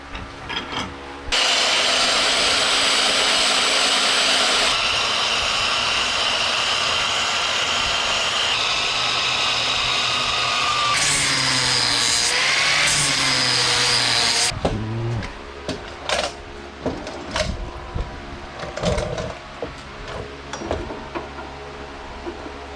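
A power tool whines loudly and continuously for over ten seconds, its pitch shifting as it cuts through metal, then cuts off into scattered clinks and handling noises.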